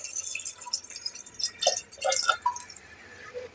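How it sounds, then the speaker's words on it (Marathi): Water is poured into rice for a vegetable pulav, giving a short run of close splashing and dripping sounds of uneven loudness. "त्यानंतर आपण जेवढे तांदूळ घेतले त्याच्या दुप्पट पाणी टाकायचं."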